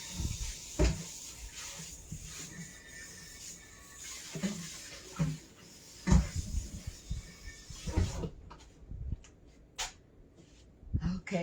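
An oven door clunks and thuds as cornbread goes in, with several knocks, rattles and a closing bang amid kitchen handling sounds.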